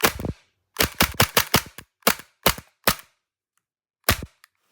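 A Tokyo Marui HK USP Compact airsoft pistol, a small plastic gas blowback sidearm with a large nozzle, fires about ten loud, snappy cracks, a rapid string, a pause, then a last shot, close up with no talking.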